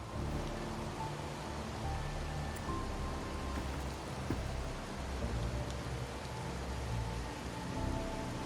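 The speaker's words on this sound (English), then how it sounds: "when it rains like this, we hide." Steady rain falls in the video game Wuthering Waves, a dense, continuous patter of drops spread evenly across the whole stretch with no talking.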